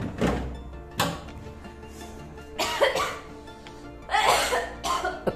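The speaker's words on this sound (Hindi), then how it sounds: "खांस दे मेरे ऊपर तू।" Several harsh coughs from a person in a home kitchen, sharp bursts spaced over a few seconds with a throat-clearing sound, against faint background noise.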